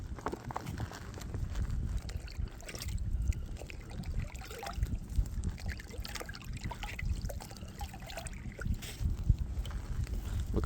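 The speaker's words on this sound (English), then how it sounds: "Now I'm gonna fill up my water." Lake water from Vänern in Sweden trickles and gurgles into a container held at a kayak by an island shore, with soft irregular splashes and dribbling at close range.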